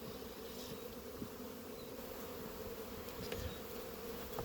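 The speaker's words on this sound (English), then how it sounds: "So I've got a lot of bees in there" Honey bees buzzing steadily inside a hive during a post-winter colony rescue, a dense continuous hum close by with no voices.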